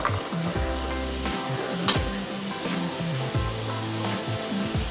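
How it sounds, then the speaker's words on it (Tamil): Carrot, beans, tomato and fresh peas are sautéed in a pan for vegetable biryani, giving a steady close sizzle with scraping stir strokes over it. "எல்லாம் சேர்த்து வதக்கிக்கலாம்."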